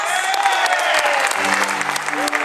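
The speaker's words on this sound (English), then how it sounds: "so give him a round of applause." An audience applauds at a comedy show on a cruise ship, with dense, close clapping filling the room and brief crowd voices mixed in.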